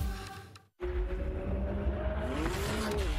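A high-performance race car roars at close range, engine tone rising and bending after a sudden brief cutout, with a thin tire squeal riding over the sustained drone.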